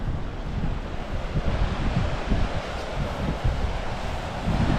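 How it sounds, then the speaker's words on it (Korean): Wind blows at the seaside in a continuous, fairly loud rush, buffeting the microphone and mixing with the wash of waves, with no talk. "바람이 조금 불기는 하는데"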